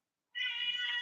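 A single cat gives one clear, sustained meow that begins after a short silence and holds steady to the end, close and fairly loud, with no talking.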